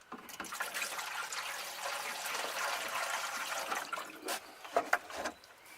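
Water poured into the door of a Chevrolet Monte Carlo, a continuous splashing, trickling flow that ends in a few louder gurgles and drips.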